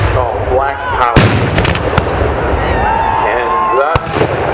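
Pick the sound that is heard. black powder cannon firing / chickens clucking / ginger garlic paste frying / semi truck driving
black powder cannon firing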